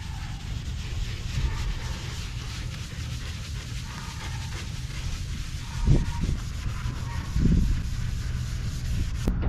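Wet patina surface being scrubbed, a soft continuous rubbing and swishing texture with a couple of louder thumps near the end, fairly quiet and close.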